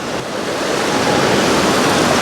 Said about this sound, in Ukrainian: Уявляєте, скільки тут тонн води за хвилину.